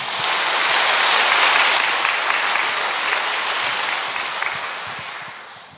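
A church congregation at a Wednesday service applauds to welcome missionaries, including one serving in India; dense, steady clapping fills the room throughout, slowly tapering toward the end.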